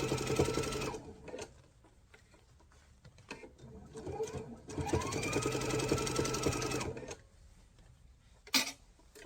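A sewing machine runs in bursts while stitching fabric pieces edge to edge for fabric boxes, its steady mechanical whir rising and pausing close by, with a brief sharp clatter near the end and no talking.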